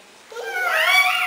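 A small child in a preschool play imitates a cat's meow, a single drawn-out rising and falling vocal mew that starts after a brief quiet moment and carries on to the end, fairly close and clear.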